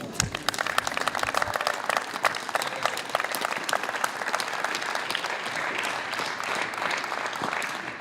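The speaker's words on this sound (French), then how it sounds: "Merci d'applaudir Joška Zborovský." An audience claps at the prize ceremony of a youth tennis tournament, a steady wash of applause at a moderate distance, continuous and fairly even throughout.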